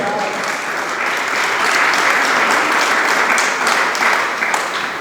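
A church congregation claps steadily and loudly, a dense even wash of many hands filling the space without a break.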